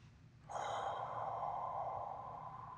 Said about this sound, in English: let's take some deep breaths in through the nose